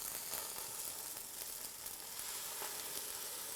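Butter and kale pesto sizzle steadily in a single pot, a dense, hissing fry that holds even throughout with faint stirring clicks, heard close with no talk.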